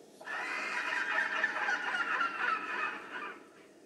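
A baby Rhamphorhynchus in the Path of Titans video game gives its broadcast call: one loud, sustained, raspy squawk, seagull-like and bright, lasting a few seconds on its own.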